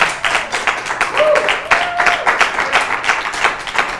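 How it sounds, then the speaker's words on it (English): Steady clapping from a crowd, a dense patter of many hands with a brief whistle-like tone in the middle. "Go ahead, you can give a clap."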